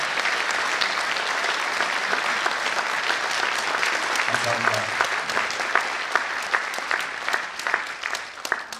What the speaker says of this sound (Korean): 우리 한번 큰 감사와 격려의 박수를 보내주시기 바랍니다